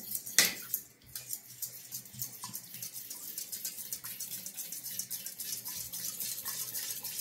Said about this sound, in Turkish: Ve çırpacağımızla güzelce bir çırpalım.